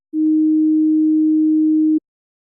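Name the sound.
pitch test tone played again by hearing program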